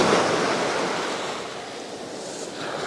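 Sea waves break and wash up on a beach, a steady rushing surf with some wind noise, close and continuous with no voices.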